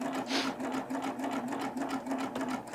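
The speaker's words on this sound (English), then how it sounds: "we're going to sew this on the Solaris, but you can do it on whatever your machine is" A Solaris sewing machine stitches linen seams, its needle chattering in a fast, steady mechanical rhythm, close and moderately loud, with no talk over it.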